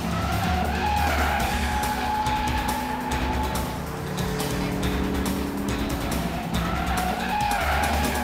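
A Corvette Z06 driven hard by a professional racer through the curves of a track, tires squealing and skidding loudly while the engine roars and shifts pitch, sustained and close from inside the car.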